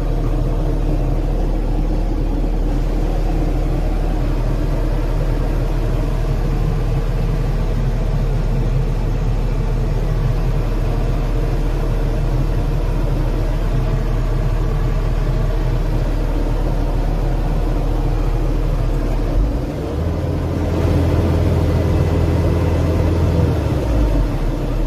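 A 2019 CASE TV450 skid steer's diesel engine runs steadily with a low rumbling drone, nearby, and near the end the throttle is raised, adding a louder, higher hum.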